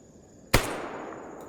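A single pistol shot in the video game Escape From Pripyat, a sharp close crack with a brief decaying tail, heard alone.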